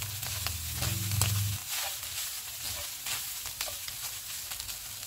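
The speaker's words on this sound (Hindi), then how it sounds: "इनको 2 मिनट तक भून लेंगे।" Minced meat with onion and butter sizzling in a pan, a steady hiss of frying with faint stirring scrapes, close and continuous.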